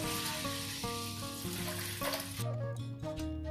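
Seven cups of water are poured into a cooker holding rice and moong dal for temple-style katte pongal, a steady close splashing over a faint musical backdrop.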